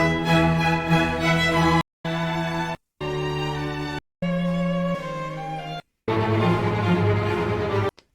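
Vivaldi's Spring in its original classical orchestral recording, with full, bright strings playing in several loud bursts separated by brief silent gaps, and no talking.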